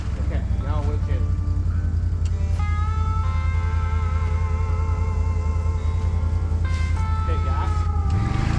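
An ATV winch pulls in with a steady electric motor whine and low engine drone throughout, close and loud, under an outdoor ride, with rising and falling tonal sweeps and people talking.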